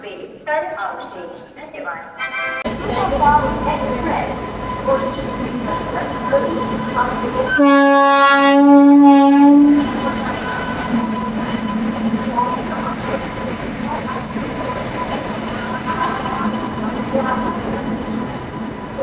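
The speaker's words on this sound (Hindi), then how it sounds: "हमारी ट्रेन आ गई है बड़ौदा पे 4:32 को।" A passenger train pulls into Vadodara station, a loud steady rumble of rolling stock with a sustained horn blast in the middle and station hubbub throughout, with people talking.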